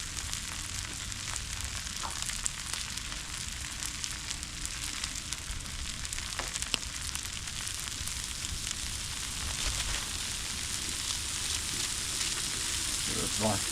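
Burger patties frying on a new griddle at a backyard Super Bowl cookout, a steady close hiss and crackle of fat that runs throughout, with faint scattered pops and a few metallic scrapes.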